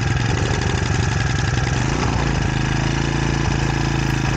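A BT80 bike engine fitted with an HP carburetor idles close by with a steady, loud, throbbing putter that holds an even rhythm throughout, heard alone without any talk.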